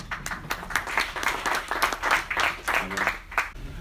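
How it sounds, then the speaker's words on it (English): Audience at a construction-technology talk welcomes a speaker with a round of clapping, a close, uneven burst of hands with rhythmic swells, with some voices mixed in. "Please give him a warm round of applause."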